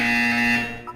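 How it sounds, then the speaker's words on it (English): A buzzer in the video game Portal 2 sounds as a steady electronic tone, loud and sustained for most of a second before cutting off. "When you hear the buzzer, look down at the floor"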